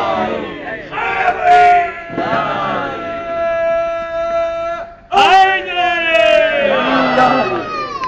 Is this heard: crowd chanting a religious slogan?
yes